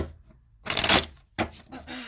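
Two quick bursts of tarot cards being riffled and shuffled close by, a brief flutter then a shorter second one, no voices.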